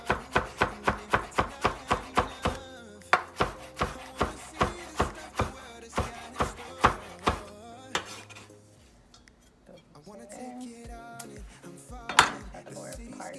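Parsley being chopped on a cutting board for a potato salad, a fast run of sharp, evenly spaced knife strikes close by, then a pause, a few scattered taps and a scrape as it is gathered up.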